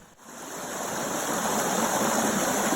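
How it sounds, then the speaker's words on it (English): A small spring-fed brook flows steadily nearby, a loud, continuous rushing burble that swells in the first second and then holds even. "got a chance to cool off in this spring-fed brook that was coming in, this little stream"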